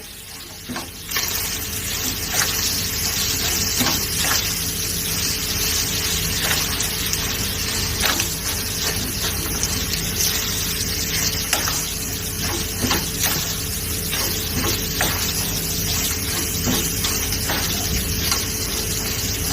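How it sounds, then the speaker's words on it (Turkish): Minced meat and potatoes with red pepper flakes, chili powder and salt sautéing in a pan for an oven dish, a loud continuous sizzle with scraping stir strokes throughout, no voices. "Hepsini güzelce kavuracağım, karıştıracağım."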